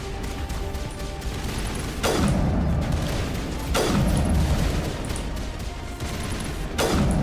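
Gunfire in the video game Mass Effect Legendary Edition: three loud, evenly spaced heavy shots, each a sharp crack trailing into a rumbling decay, over steady combat noise.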